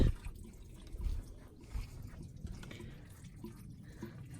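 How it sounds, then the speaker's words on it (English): Coolant water drains from a Chevrolet S10 4x4 truck radiator, trickling and dripping steadily into a pan, a low splattering flow with no voices, close by. "So this is all just pretty much water that's in there. So it's draining out right now."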